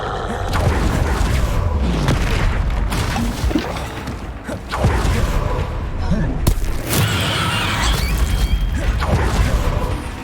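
Confringo explosion spells burst repeatedly during a Hogwarts Legacy fight, heavy booms and crashes landing in quick succession amid continuous combat noise, with a voice speaking over the chaos.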